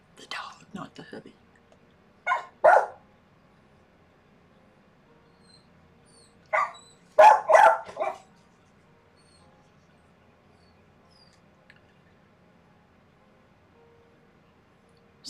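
A dog indoors lets out a few short, sharp barks in separate bursts: one early, one around the middle and a tight cluster later. Long quiet gaps fall between them, and soft whispering can be heard.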